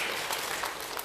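Brief, dense applause from a church congregation welcoming a pianist, a loud wash of many clapping hands that stays steady throughout.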